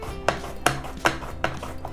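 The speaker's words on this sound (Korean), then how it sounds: "이렇게 양파는 얇게 썰어 주시고요" Onion sliced thinly on a mandoline slicer, four crisp, evenly spaced slicing strokes close up, each a sharp swish and snap, with no voices.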